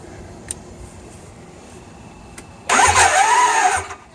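Clicks, then a GS750 motorcycle engine in a cart cranks with a whirring electric starter and sputters briefly without catching, loud and close, before cutting off.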